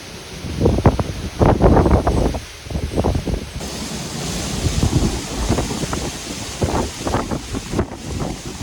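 Strong gusty wind during Caribbean hurricane season buffets the microphone in loud, irregular rumbling bursts, with a constant airy rush underneath.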